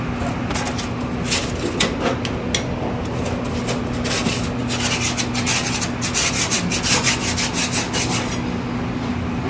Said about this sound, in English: And then there's the front ledge here, scrape along that.